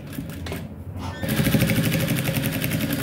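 A sewing machine stitching male boxer fabric: after a brief pause the motor starts up into a fast, steady rattling run of needle strokes, close and fairly loud, with no talk.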